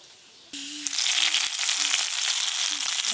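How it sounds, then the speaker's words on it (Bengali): Chopped ginger and carom seeds fry in hot ghee for chole bhature, a loud close hissing sizzle that bursts in after a quiet start and continues steadily, with faint clicks and no speech. "ঘি দিয়ে আদা আর জোয়ান বেশ ভালো করে ভাজা ভাজা করে নিয়েছি"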